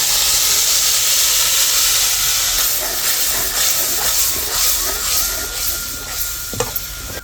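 Ground peanut paste drops into hot oil already seasoned with cumin, turmeric, masala and red chili for a cowpea curry. It sounds like a loud, steady hiss of sizzling that eases slightly, with a couple of sharp clinks near the end and no talking.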